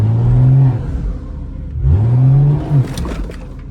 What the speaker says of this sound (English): I want y'all to anticipate and listen to the turbo.